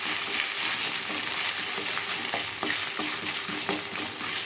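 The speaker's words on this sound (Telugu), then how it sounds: "తాలింపు వేసేసుకున్నాము." Tempering spices sizzle steadily in hot oil, a dense continuous crackle with small pops and spits scattered throughout, close and fairly loud with no voices.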